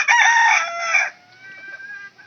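A rooster crows loudly and close by in a farmyard flock of chickens, one sustained call that cuts off, followed by quieter scattered clucking.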